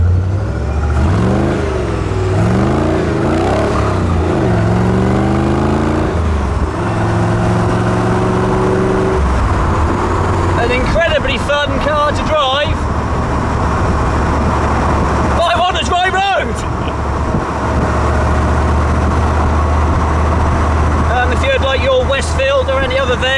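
Tuned Rover V8 car engine revving hard and pulling up through the rev range, with loud rising and falling harmonic sweeps and brief gear-change gaps, close and dominant throughout.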